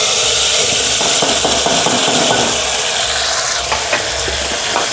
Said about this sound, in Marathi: मी मोहरी टाकली जिरे टाकले वाटण टाकून दिले